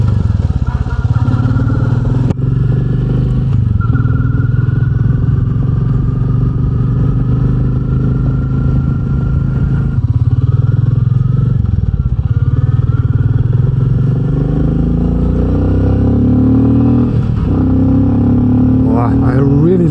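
A Royal Enfield Meteor 350 motorcycle's engine and exhaust thrum steadily while riding in freezing winter conditions, a loud low throbbing note with shifts in pitch as it accelerates and eases off, continuous and close.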